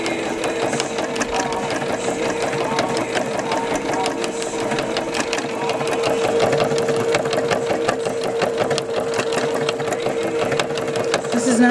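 Sewing machine stitching steadily with a non-embroidery presser foot, a loud, continuous rapid mechanical whir and chatter that runs unbroken throughout, with occasional speech faint underneath.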